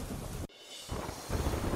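Heavy rain pouring down in Nagpur, a dense, steady roar of rainfall with a brief dip in the middle before it swells again, close and loud with no voices.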